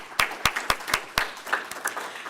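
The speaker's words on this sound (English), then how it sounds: "Let's give everyone one more round of applause." Applause for seniors at an exercise science spring symposium: a handful of distinct, close, loud claps in a loose rhythm over softer scattered clapping that thins out toward the end.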